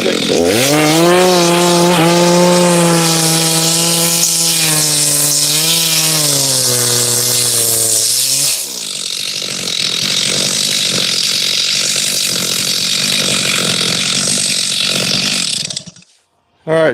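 A chainsaw with a freshly sharpened chain cuts firewood in Oregon, revving loud and close with a bogging whine through the wood, then running steadily before cutting off near the end.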